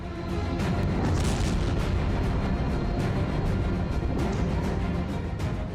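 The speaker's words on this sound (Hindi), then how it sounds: "यमन के कई शहरों में एक साथ विस्फोट होने लगे और आग की लपटें उठने लगी।" Dense, continuous rumbling booms of explosions from US strikes on Houthi targets in Yemen, blending into one another, loud and heavy with no clear pauses.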